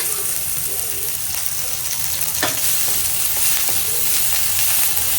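Onions frying in a pan for chole bhature, a steady close sizzle with soft stirring scrapes and occasional sharper crackles, continuous throughout without speech.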